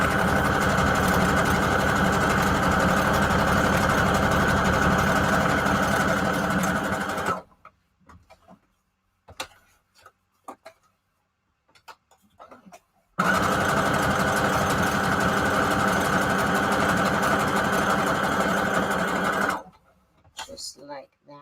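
A sewing machine stitching fabric tags for junk journals runs in two long, even bursts of rapid needle chatter, split by a quiet pause that holds only faint clicks and handling noises.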